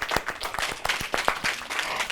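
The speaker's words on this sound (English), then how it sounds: "Let's give this story a round of applause." An audience at a winter storytime gives a round of applause after a story, scattered and moderately loud hand claps from a small group, irregular and without talk.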